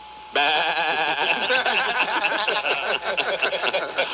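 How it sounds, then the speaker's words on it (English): Sheep bleating heard over a radio broadcast, a loud, wavering chorus of several animals calling over one another continuously, close and dense with no speech. "There's sheep there."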